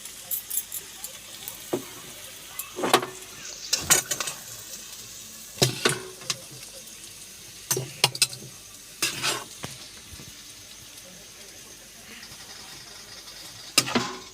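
A cooked cabbage dish is scraped and tipped out of the pan. Irregular bursts of metal scraping and clatter come between quieter gaps, with a faint sizzle underneath and no clear talk.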